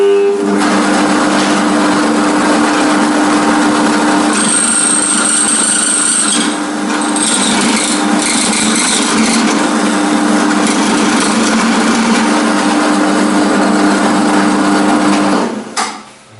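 An electric drill, used as a makeshift lathe while repairing a blender, whirs continuously at high speed for a long stretch, loud and close, with a grinding edge, before winding down at the end.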